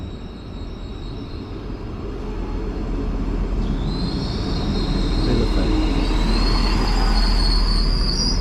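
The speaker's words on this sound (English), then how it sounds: "Train is coming." A train bound for Bielefeld, Germany rumbles steadily closer with a growing low roar, and high metallic wheel squeals rise and stretch out as it pulls into the station; a brief spoken word.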